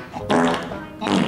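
Two short, loud, buzzy fart noises from the 2002 Scooby-Doo movie arrive a beat apart, separated by a brief softer stretch.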